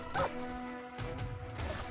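Dogs bark in Metal Gear Solid: Portable Ops, with a sharp yelp or bark near the start followed by softer bark-like bursts over a humming game background.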